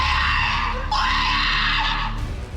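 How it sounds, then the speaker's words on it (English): A terrifying, sustained high scream attributed to the La Llorona ghost, loud and shrill with a wavering, almost whinny-like tone. It holds for about two seconds before cutting off abruptly, with no talk. "So this scream is terrifying"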